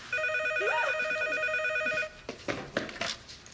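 Telephone ringing indoors, a loud repeating electronic ring for about two seconds that stops abruptly, followed by handset pickup clatter and quiet movement.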